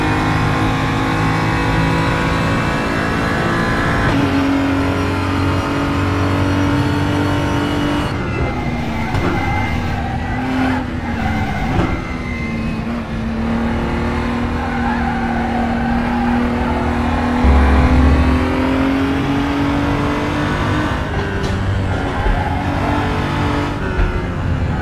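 Race car lapping in the RaceRoom racing game, a loud continuous engine drone that climbs and drops through gear changes, with brief throttle lifts and a steady high-revving whine throughout.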